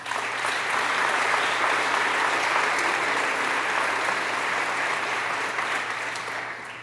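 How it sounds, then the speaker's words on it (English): Sustained crowd applause fills the room at a 2018 Teacher of the Year awards banquet, a steady, dense clapping that carries evenly for several seconds before easing slightly at the end. "please give him an applause"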